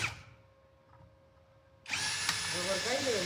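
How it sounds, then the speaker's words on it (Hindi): A power drill bores a hole while an inverter is being built: near silence, then the drill kicks in abruptly and runs loud and steady to the end, with faint talk underneath. "फिर इसके बाद ड्रिल के साथ मैंने सुराख भी किया।"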